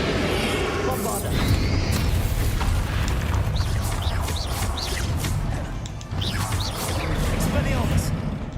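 Bombarda blasting-spell explosions crash and boom repeatedly in Hogwarts Legacy, loud bursts with swooshing debris over a dense rumbling game mix.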